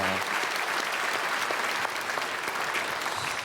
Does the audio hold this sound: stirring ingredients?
no